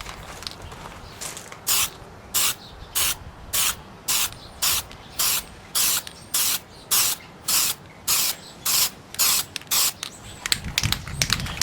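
Aerosol can of filler primer sprayed onto a model kit part in about a dozen short, even hissing bursts with brief pauses between, close and loud, ending with some handling clatter.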